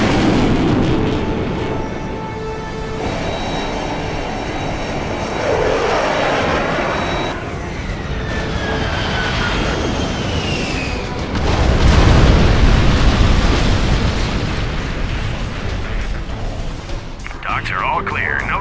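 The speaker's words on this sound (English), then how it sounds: "Launching airstrike." An in-game airstrike in Command & Conquer: Generals – Zero Hour, with roaring jet aircraft sweeping overhead and heavy rumbling explosions that build to a loud peak midway. Voices speak over the dense, continuous din.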